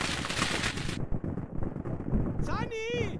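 Gunfire and battle noise from the World War II strategy game Gates of Hell: Ostfront, a loud, dense burst of shots and blasts followed by a brief whistling effect, with no speech.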